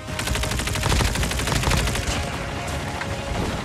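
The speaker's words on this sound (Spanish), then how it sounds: "Por allá arriba se oyen disparos." Rapid bursts of automatic gunfire from a shooter video game, a dense, steady rattle of shots filling the whole stretch at fairly loud level, with no talking over it.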